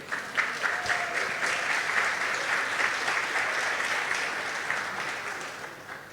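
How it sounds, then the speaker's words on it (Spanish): A church congregation applauding, a sustained wash of many hands clapping together at a steady level, tapering off at the end with no talk over it. "Dale un aplauso al Señor."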